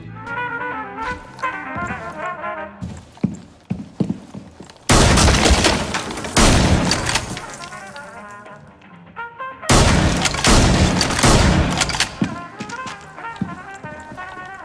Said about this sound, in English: take a shotgun, blow a hole in the wall